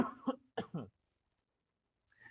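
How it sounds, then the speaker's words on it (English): Two quick coughs close to the mic, followed by silence and then a short faint breath or vocal sound. "let me cough for a second"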